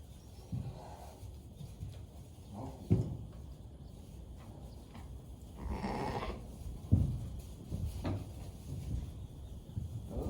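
Sheep, including Jacob ewes with lambs, being handled on a farm during hoof trimming: a few short bleats and rustling animal movement come through at moderate distance, with bumps and shuffles between calls.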